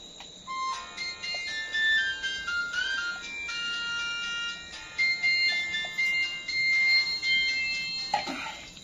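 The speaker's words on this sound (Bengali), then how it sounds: "ব্যস্ত মানুষের খালি ফোন বাজতে আছে" A mobile phone ringtone rings on and on for about nine seconds with bright, repeating melodic tones while a fishing bait mix is being prepared. It rings at a steady, moderate level with no talking over it.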